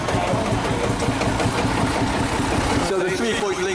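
A vintage tractor engine idles at an agricultural show, a steady, loud, low chugging throb that continues evenly throughout, with crowd noise around it.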